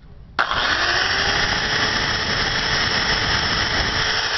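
Power drill boring 3 mm holes in parts for a homemade Stirling engine, starting with a sharp onset and settling into a loud, steady, high squealing whir that continues to the end.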